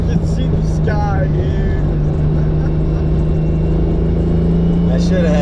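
A Lexus SC300 tuned to 650 hp drives in third gear, its engine and road noise a loud, steady low drone that fills the whole stretch while voices talk over it.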